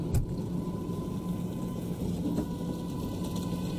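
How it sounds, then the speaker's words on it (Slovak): A JCB Fastrac 8330 tractor hitched to a Krone BigPack 1290 HDP baler runs in a field, its engine a steady low rumble heard from nearby, with a faint hum and a couple of brief knocks and no talking. "Ja si púšťam traktor"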